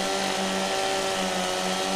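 Chainsaw in Farming Simulator 17 on PS4 cutting through a log, a steady buzzing engine drone with a wavering pitch, held loud and close for the full two seconds with no voices.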